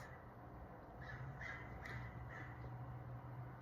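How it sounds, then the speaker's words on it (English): A crow caws outdoors, a series of about five rough calls spaced under a second apart, fairly far off and faint over a steady low background hum. "You heard that, Crow?"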